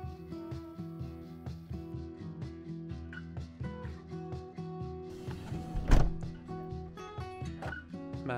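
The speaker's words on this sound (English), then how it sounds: "Man, she knows how to close the door." A campervan door is shut with a single solid thunk near the end, set against a steady background of layered tonal sound.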